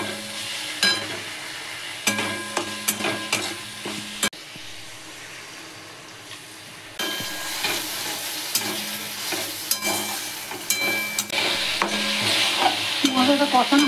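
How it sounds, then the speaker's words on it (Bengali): Spice masala with tomato and salt stir-fried in a pan for a fish kofta curry: steady close sizzling under repeated scraping and clinking strokes of a spatula, pausing briefly midway, then resuming louder and denser. "মশলাটা কষানো হয়ে গেছে।"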